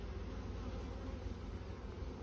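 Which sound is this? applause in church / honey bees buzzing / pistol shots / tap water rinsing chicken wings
honey bees buzzing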